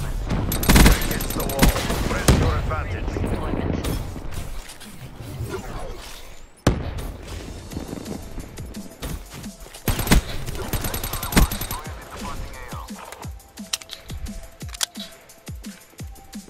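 A new DLC gun fires in the Black Ops 3 video game on PS4 Pro, with loud rapid bursts of gunfire, sharp single shots and in-game effects layered over a player talking.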